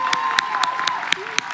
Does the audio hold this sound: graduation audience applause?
yes